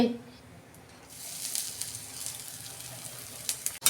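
Whole cumin seeds hitting hot oil for tempering, a bright crackling sizzle that swells after a quiet start and continues with scattered pops, alongside faint voice at the beginning.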